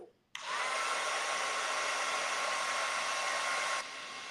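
A handheld heat tool blasts steadily for about three and a half seconds, a loud, even whoosh while melting embossing powder on a craft piece, starting abruptly and cutting off near the end.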